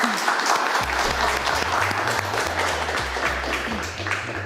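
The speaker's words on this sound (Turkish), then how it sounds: "Cem'e kocaman bir alkış alabilir miyiz?" A studio audience claps for a contestant on a Turkish entertainment show, dense steady applause with a low rhythmic musical beat pulsing beneath it the whole way through.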